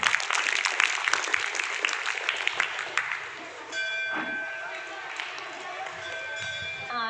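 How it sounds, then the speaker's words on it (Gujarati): An audience at a school welcome ceremony claps in a dense burst for about three seconds, then the clapping thins out and clear ringing tones take over. "આપણે સૌ તાળીઓના ગડગડાટથી વધાવી લઈશું."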